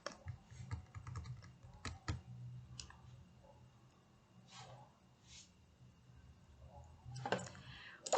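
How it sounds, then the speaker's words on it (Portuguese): Scattered bursts of keystrokes typed on a computer keyboard indoors, quick clusters of soft clicks separated by pauses, with a firmer keypress flurry near the end. "eu vou digitar aqui Intel e vou dar Enter"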